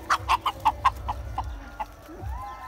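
Chickens at a rural coop give a quick run of about eight sharp clucks, loud and close, trailing off into quieter calls over low background rumble.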